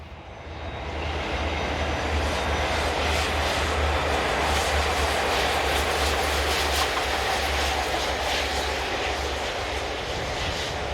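A diesel-locomotive-hauled passenger train, led by locomotives 57002 and 57003 in the United Kingdom, rumbling past at steady volume, with a deep engine drone and rhythmic clattering wheels, loud and close throughout.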